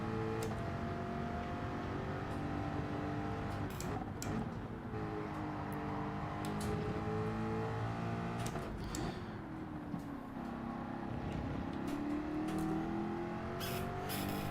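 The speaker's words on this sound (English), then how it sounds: "this is a car you've definitely got over there, the Ford Mustang" Ford Mustang engine in Gran Turismo, revving up and down through gear changes with rising and falling tones, fairly close and continuous, without talk.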